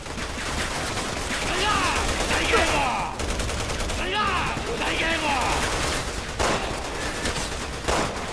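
Bursts of rapid gunfire crackle through a busy, loud Resident Evil 6 video game scene on rooftops, with sweeping whooshes and voices talking over the shooting.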